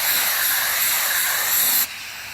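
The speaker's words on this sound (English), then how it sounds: "When spraying metallics, okay, let's say you spray this way." A spray gun spraying metallic paint onto a car's pony wheels gives a loud, continuous close hiss that cuts off sharply near the end, leaving a quieter background.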